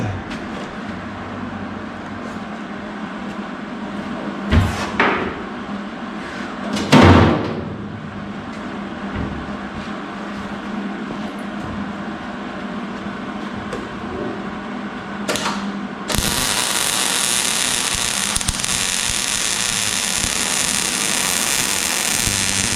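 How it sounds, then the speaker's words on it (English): An arc welder laying a bead on metal, sputtering on clean steel after burning easily through paint; after a few knocks and bumps over a low background, a harsh, steady crackling hiss starts abruptly and runs loud to the end. "This welder don't make a bit of sense. Just welded through that paint like it was butter, but yet clean metal it sputters."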